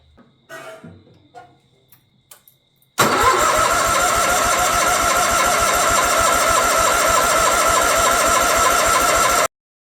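A John Deere 318 lawn tractor engine, back after sitting for years, cranks and catches into a loud, steady rhythmic chug that runs unbroken for about six seconds before cutting off abruptly, preceded by faint rustling and clicks.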